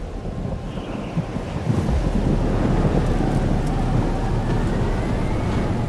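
Stormy weather in the game Life is Strange: Double Exposure, a steady broadband roar of rain and wind that grows louder about two seconds in, with low rumbles underneath and no voices.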